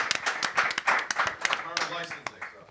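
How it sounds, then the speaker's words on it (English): An audience at a panel discussion on music in film claps in quick, distinct, uneven bursts at moderate distance, while a voice speaks over the clapping. "Keep clapping, Rick."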